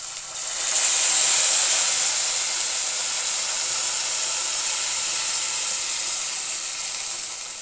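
Hot water poured into a hot pan of roasted vermicelli with sugar bursts into a loud, steady hiss of steam that holds for several seconds and slowly eases, with no talk.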